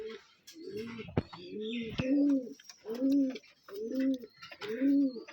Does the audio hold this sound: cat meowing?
no